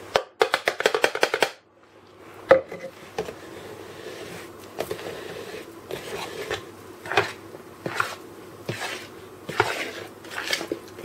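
Flour being stirred into sponge cake batter in a home kitchen, opening with a quick run of sharp taps, then a series of soft scraping, rubbing strokes of a spoon or whisk against the bowl.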